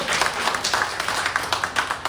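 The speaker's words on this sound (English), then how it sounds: "I'm gonna give you a round of applause." Audience at a live country concert in Quitman, Texas claps in a round of applause, with individual claps distinct and fairly close, uneven and sparse rather than a dense roar.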